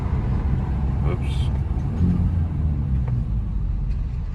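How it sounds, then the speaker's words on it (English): Hyundai Elantra N Line with a cold air intake, engine rumbling steadily during downshifts in traffic, moderately loud from inside the car. "Love the downshifting."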